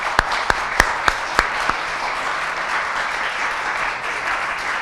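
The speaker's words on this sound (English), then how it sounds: "that's a clap. That's a clap" Audience clapping after a talk on Black Detroit at a CCNY Black Studies event: a few sharp, separate claps up front, then a steady, moderately loud wash of applause that carries on to the end.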